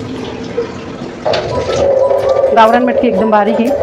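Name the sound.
rinsing moth beans with water in a pot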